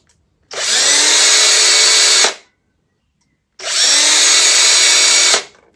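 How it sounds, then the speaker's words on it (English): Power drill boring two holes into a guitar fretboard, two loud high-pitched whirring bursts of about two seconds each, separated by a short silence. "I can drill 2 holes this time"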